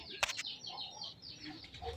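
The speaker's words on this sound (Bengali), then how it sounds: "এখানে দেখতে পাচ্ছেন মুরগি, ঠিক আছে, দেশি মুরগি" Domestic country chickens clucking softly at a bird market, a few short clucks and chirps with a quick wing flutter, fairly faint and without speech.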